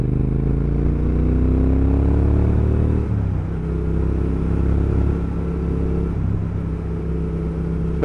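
A Triumph Thruxton R motorcycle engine rumbles loud and close while ridden in sports mode. Its pitch climbs through the revs, then drops sharply at a gear change and settles into a steadier drone.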